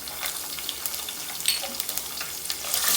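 Crushed garlic sizzles in hot oil in a pan for a white onion tamarind curry, a steady soft crackle with scattered sharper pops, heard alone and close.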